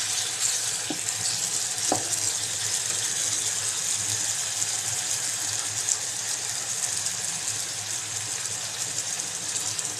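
Steady crackling sizzle of chicken frying in a pot for biryani, continuous and fairly loud throughout, with a couple of brief clinks near the start.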